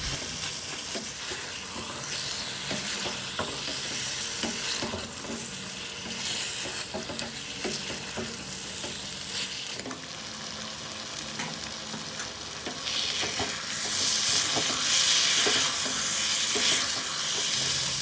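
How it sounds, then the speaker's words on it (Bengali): Chicken pieces tossed with spices and stir-fried in hot oil, a dense, continuous sizzle with scraping stirs that grows louder and hissier toward the end. "চিকেন এবং মশলাটা ভালো মতো মিশিয়ে নেব। এবারে মাংসটা এর মধ্যে ভালো মতো কষিয়ে নেব।"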